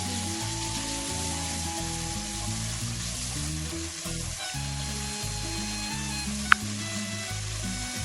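Ginger-garlic paste and curry leaves fry in a pan with a steady, close sizzle running throughout, broken by one brief sharp click near the end.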